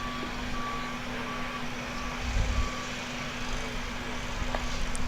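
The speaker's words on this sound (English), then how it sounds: "We are next door to a fire station and they're moving the fire trucks around" Fire trucks being moved around at a fire station next door during a junior sporting event, their reversing beeps sounding as a faint, steady intermittent tone over a low truck engine rumble in the distance.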